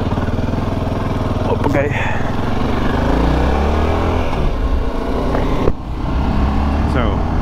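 A Voge 650 DSX adventure motorcycle rides in first gear with a loud steady engine drone and rising pitch as it pulls away, mixed with wind rush close to the rider, and a brief spoken remark.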